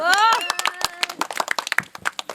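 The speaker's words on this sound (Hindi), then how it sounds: "ताली बजाओ" A few sharp hand claps ring out in an uneven burst at a comedy skit, following a brief voiced sound at the start.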